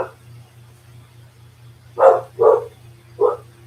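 A dog barks three times in quick succession, close by, over a low steady hum in a quiet indoor room.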